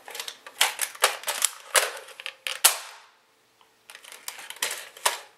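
Modified Nerf gun firing in a sound test, with rapid clacking shots in quick bursts, a short silent gap, then more sharp close snaps, and no speech.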